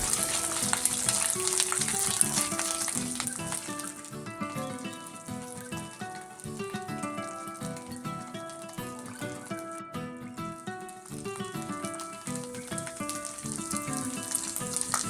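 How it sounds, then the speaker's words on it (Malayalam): Coconut pieces frying in hot oil after mustard seeds have popped, for a Kerala-style bread roast: a steady hissing sizzle partly buried under continuous tuneful background music, with no speech. "കടുക് പൊട്ടിയതിന് ശേഷം ആദ്യം തേങ്ങാക്കൊത്ത് ഇട്ട് കൊടുക്കാം."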